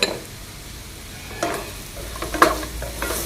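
Raw mango pulihora ingredients with green chilies and salt frying and sizzling in a pan, a steady close hiss with a few louder stirring scrapes, no voices.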